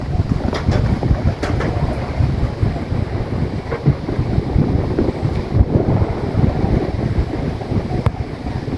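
Wind blows steadily outdoors, buffeting the microphone with a constant rumbling roar and occasional gusts, with no voices heard.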